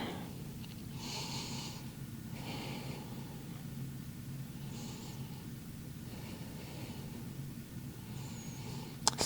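Slow, steady breaths drawn in and out during a rabbit pose in a vinyasa yoga stretch, with several soft airy swells over a low, constant room hum and no talking.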